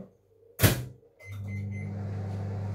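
A microwave oven heating oil for jollof rice: a sharp click or door thump, a short pause, then the oven starts with a steady low hum that continues to the end.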